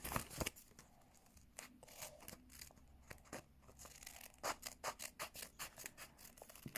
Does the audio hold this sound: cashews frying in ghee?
no